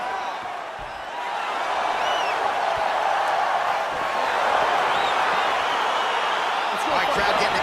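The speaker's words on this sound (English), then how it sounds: "crowd getting excited as this fight gets underway" Arena crowd noise from a fight in the video game EA Sports UFC 4, as the bout gets underway: a steady, dense roar of spectators that swells slightly, with bursts of cheering and a commentator talking over it.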